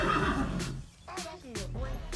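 A horse standing in barn cross ties lets out a short series of whinnies, with rising and falling cries in quick succession and close by.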